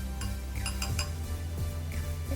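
A spoon clinks against a bowl while powdered sugar and baking powder are stirred together, a handful of bright, close metallic taps in quick irregular succession with no talking.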